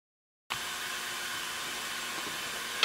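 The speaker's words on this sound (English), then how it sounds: "I'll just take a torch and torch around in there, and it blackens it up really nice" A blow torch hisses while blackening the inside of wine barrel stave wood, a steady, close, even rush of flame that starts abruptly and holds with no other sounds.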